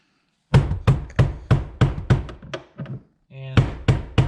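A series of sharp, close hammer taps on metal, about ten blows in a steady rhythm with a short pause near the end, tapping out a fuel pump on an LS-swapped Mazda RX-8.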